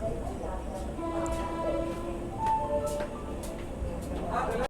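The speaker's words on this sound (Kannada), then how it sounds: "ಸದ್ಯಕ್ಕೆ ನಮ್ಮ ಟ್ರೈನು ಮಿರಾಜ್ ರೈಲ್ವೆ ಸ್ಟೇಷನಿಂದ ಡಿಪಾರ್ಟ್ ಆಗಿಬಿಡ್ತು" Steady rumble of the Pune–Hubli Vande Bharat Express running along the rails after leaving Miraj station, with faint tonal whines rising and falling over a constant low roar.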